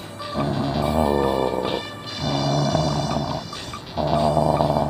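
A voice imitating the angry snorting and growling of a tiger, harsh and rasping in three loud bursts with short breaks between them, close up and alone.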